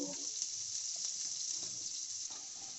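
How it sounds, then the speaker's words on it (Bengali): Onion frying in mustard oil in a pan, a steady loud hiss and sizzle with faint clicks and stirring knocks underneath. "এখন আমরা পেঁয়াজটা ভেজে নেব।"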